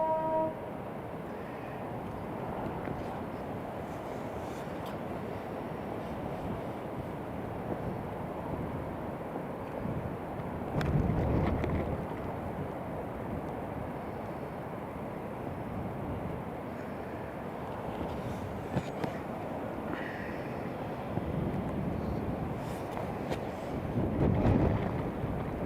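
A British Airways airliner taxiing toward the runway at Newcastle International Airport, a steady, moderately distant engine rumble and whine that holds evenly throughout, with a couple of slightly louder swells and no voices.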